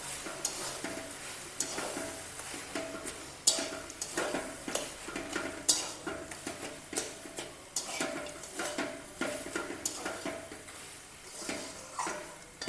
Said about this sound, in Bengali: সেই মাছটা দিয়ে দিচ্ছি। মাছটা দিয়ে নেড়ে নেব।